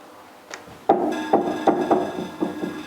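Sheet metal heat shield tabs for a 1982 Jeep CJ7 being bent: a series of sharp metallic knocks and clanks at uneven intervals, close and fairly loud, each with a short ringing tail.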